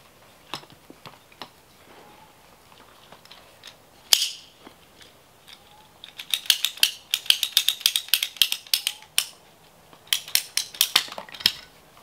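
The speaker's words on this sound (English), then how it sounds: "Alright, so this one I'm going to cut back just a smidge." A ratcheting cutter bites into garden watering tubing to shorten it: scattered clicks first, then a fast rhythmic run of sharp ratchet snaps close by, pausing briefly before a final burst.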